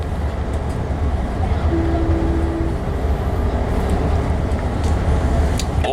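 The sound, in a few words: Amtrak Capitol Corridor train riding on the rails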